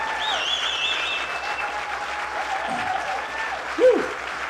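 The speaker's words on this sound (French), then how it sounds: "Ouais, belle main d'applaudissements." Clapping from a crowd runs steadily as a dense patter, with brief whoops and a short cheer rising near the end.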